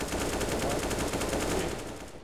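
Rapid bursts of gunfire in Counter-Strike: Global Offensive, a dense, continuous rattle of automatic shots lasting about two seconds, loud and close, with no talk over it.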